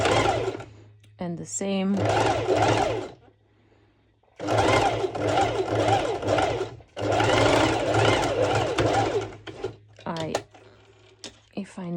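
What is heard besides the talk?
sewing machine stitching a sporty top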